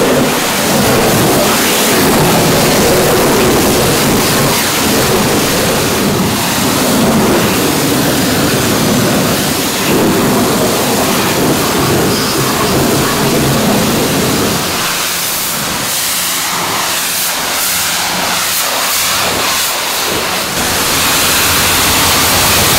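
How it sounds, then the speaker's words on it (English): A pressure washer blasts a 1987 Peterbilt big rig caked in salt, rinsing the wheels, tank and grill; the spray hisses loud and close as a continuous broad roar, briefly shifting in tone partway through. "we're gonna start rinsing on the wheels and the tank and the grill"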